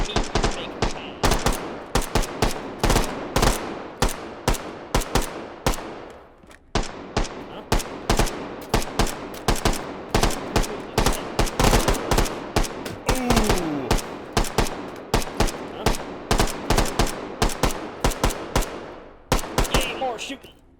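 Dense rapid gunfire from the H3VR virtual-reality shooter, with near-continuous automatic bursts and overlapping shots that run loud and unbroken for about twenty seconds, pausing briefly only twice.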